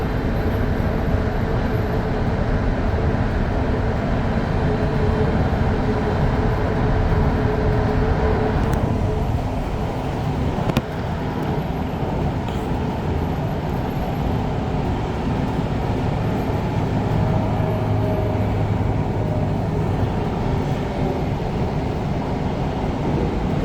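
An REM light rail car rumbles steadily from inside during a night run, its traction motors humming as it accelerates and whining under dynamic braking, with a brief clunk midway.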